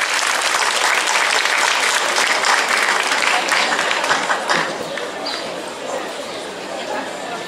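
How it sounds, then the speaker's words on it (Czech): Sustained applause from a concert audience after a bagpipe performance, dense clapping throughout that eases slightly toward the end, with some murmuring underneath. "A to je na další potlesk."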